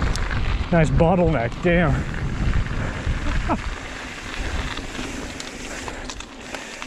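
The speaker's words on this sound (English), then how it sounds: "it's windy as hell, so I don't expect to stay on the bike" Strong wind buffets a rider at a mountain bike park in Curt Gowdy State Park, Wyoming, a steady broadband roar running throughout, loudest early and easing slightly later, with someone speaking briefly near the start.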